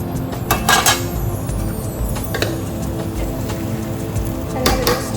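Mutton frying in a pan, a steady hiss and sizzle with metal spoon scrapes and clinks against the pan as it is stirred, close and fairly loud throughout.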